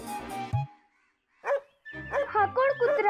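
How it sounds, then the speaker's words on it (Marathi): A dog lets out a burst of barks and yips, with a short whimpering sound in the middle, heard close up indoors, briefly overlapping a voice at the start. "हा भुंकायला लागला माझ्या अंगावरती"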